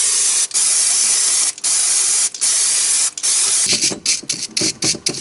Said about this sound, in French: on va juste mettre du nettoyant frein autour, prendre une brosse à dents et nettoyer. Et tu asperges de partout